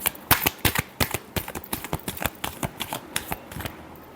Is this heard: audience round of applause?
no